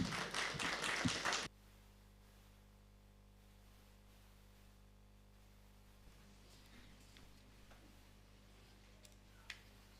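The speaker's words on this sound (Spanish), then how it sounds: "Fuertes aplausos, por favor." A church congregation at a prayer service gives brief, dense applause that lasts about a second and a half, then cuts off and leaves a quiet hum with a few faint taps.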